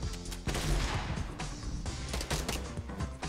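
Dense rapid gunfire in a video game, a loud, continuous barrage of overlapping shots with no pause, up close and filling the whole moment.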